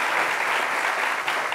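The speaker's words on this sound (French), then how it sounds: "Merci beaucoup d'applaudir très fort" Audience applause after a slam poetry performer, dense and steady throughout, loud and close with no voices over it.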